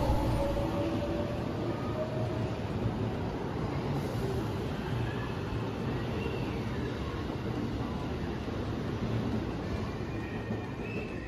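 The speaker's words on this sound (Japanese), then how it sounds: "バイバイ207系電車。" A JR 207 series electric train departs a station on the JR Kobe Line toward Shin-Osaka and Kyoto, a loud, steady rumble of wheels and motors with faint squeals that continues evenly without any talk.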